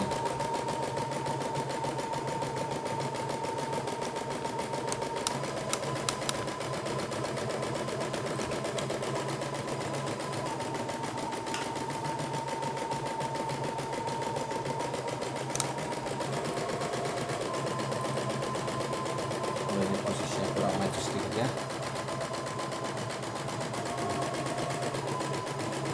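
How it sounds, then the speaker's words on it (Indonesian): A CNY E960 multifunction embroidery machine runs steadily for a long stretch, a continuous close mechanical whir with a constant hum and occasional faint clicks, no voices. "Ya, mesin sudah mulai jalan, jadi diperhatikan adalah jalannya mesin"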